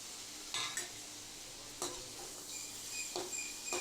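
Onions and tomatoes sautéing in a pan for a potato kurma, a soft steady sizzle with a few louder scrapes of a spoon stirring against the metal, close and alone.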